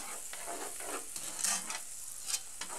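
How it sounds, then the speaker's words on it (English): Onions and brown sugar stirred in a pot as they cook down toward a dark caramel, with a steady close sizzle and soft scraping strokes throughout, no talk. "Alright, so we're going to stir this in, and then we're going to let it cook down a little further."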